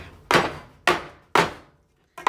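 Cake pans full of thick checkerboard cake batter are slammed down on a counter, giving four loud, sharp knocks spaced roughly half a second apart. Each knock rings briefly before it fades.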